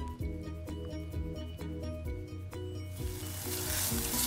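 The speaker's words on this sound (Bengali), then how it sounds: "আমি ফ্রাইদানিতে তেল গরম যখন হয়েছে সবগুলো উপকরণ দিয়ে ভালো করে কুক করে নিচ্ছি।" Ingredients for American chop suey hit hot oil in a frying pan, a sizzle swelling loudly near the end over background music.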